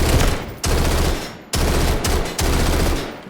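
Rapid automatic P90 gunfire in the video game Delta Force, loud close bursts of fast shots separated by short gaps, with no talking.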